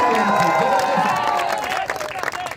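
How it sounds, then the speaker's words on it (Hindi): A crowd at a cricket grand final claps and cheers for the best batsman, a loud mixed burst with shouting voices and a loudspeaker tone that thins into scattered claps near the end. "भैया की तरफ से यहाँ पर बेस्ट बैट्समैन के लिए जोरदार ताली।"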